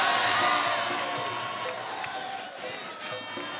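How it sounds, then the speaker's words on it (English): Crowd cheering at a Muay Thai fight in an RWS super lightweight tournament: a broad, loud swell of shouting and whooping that gradually fades, with a commentator talking over it. "Crowd like that one."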